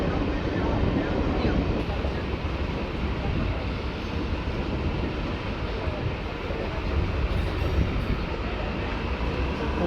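Passenger train 63026 from Rampurhat to Azimganj rolling slowly into Nalhati station, a dense steady rumble and rattle heard from aboard, loud and continuous with no clear speech.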